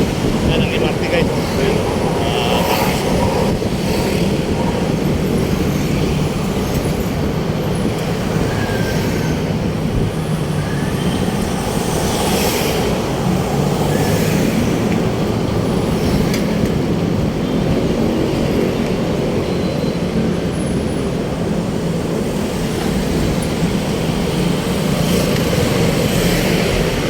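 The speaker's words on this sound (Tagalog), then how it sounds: "Yan ang MRT guys." An MRT train rolls along the elevated track overhead at a busy Manila boulevard crossing, a steady loud rumble and rush of wheels blended with street traffic noise, sustained for the whole stretch.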